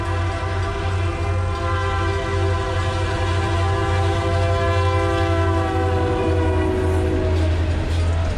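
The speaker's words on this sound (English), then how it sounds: "And then a big old train came through and Thad was all excited." A big freight train rolls past at night, its horn sounding in long sustained blasts over a steady low rumble and rail noise, loud and close throughout with no talk.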